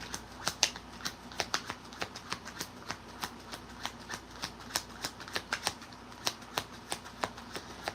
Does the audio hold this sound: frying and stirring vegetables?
no